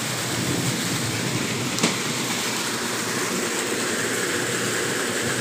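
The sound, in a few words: heavy rain falling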